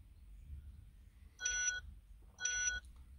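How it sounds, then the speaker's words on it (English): Two electronic airbag warning beeps from a Citroen C4 Picasso, each a steady harmonic tone lasting under half a second, about a second apart over a low engine rumble. "So there's the airbag alarm now."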